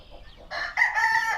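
Olive egger hens and a rooster on a farm: a close, loud crow rings out after faint clucking, with harmonic calls layered over one another.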